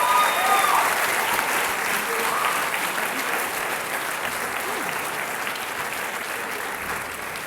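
Steady audience applause after a university debate between UGA and Oxford, a dense continuous clatter of clapping hands filling the room, fairly loud at first and easing slightly toward the end.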